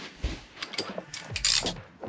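A ratcheting wrench loosens bolts holding a couch inside an RV, giving a quick series of close, soft clicking ratchet strokes in an irregular rhythm with no talking.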